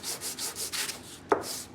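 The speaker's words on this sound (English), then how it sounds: "Or you can keep it on the bench and just rub the wood back and forward like this" Sandpaper is rubbed back and forth on a piece of wood on a workbench while building a scrappy racer, giving soft, regular scratchy strokes about five times a second, close and fairly quiet, with a sharp knock near the end.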